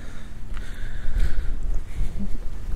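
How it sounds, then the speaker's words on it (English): Low, rumbling wind buffets the microphone continuously, with gusty surges in the middle and a steady roar throughout. "we'll see how this works in this wind, because it is windy"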